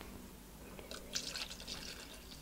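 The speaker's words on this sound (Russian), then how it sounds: "Наливаем туда молока." Milk is poured into a bowl of grated-cheese filling for stuffed potatoes, a faint, short liquid trickle and splash that rises briefly in the middle before fading.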